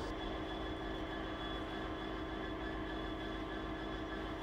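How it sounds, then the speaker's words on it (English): Container freight train arriving in a rail yard, heard as a steady, continuous rumble with a sustained whine running evenly throughout, moderately loud and unbroken, with no voices over it. "This freight driver has just brought his container train into Heathergreen Yard."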